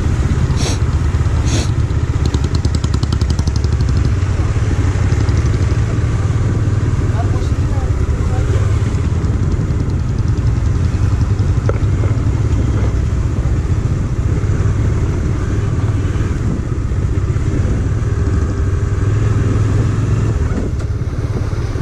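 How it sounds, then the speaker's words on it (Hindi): A motorcycle rolls very slowly along a snowy mountain road in Spiti Valley, its engine a steady low drone throughout while a rider talks over it. "जितना हो सके बाइक को सीधा रखना है ताकि ये बाइक स्लिप ना हो किसी भी हालत में"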